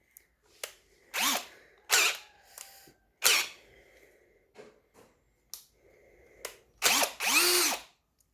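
Bosch BL_5120 brushless cordless three-function drill whirring in several short bursts, each a rising high whine, with pauses and small clicks between, close and alone without talk.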